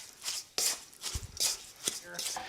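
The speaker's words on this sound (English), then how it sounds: "And then we go ahead and we mix it up." Breadcrumbs, mozzarella, Parmesan and Pecorino Romano being mixed in a bowl, uneven scraping and crunchy stirring strokes with a few soft knocks, close and fairly quiet.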